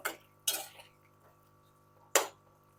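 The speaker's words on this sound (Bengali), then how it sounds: "এরপর এর মধ্যে আমি কয়েকটা কাঁচা লঙ্কা দিয়ে দেব। দিয়ে একটু নেড়ে দেব।" A spoon strikes a pan while potato and pointed gourd curry with green chillies is stirred, giving three sharp metallic clinks spaced apart over a steady low hum, with no voices.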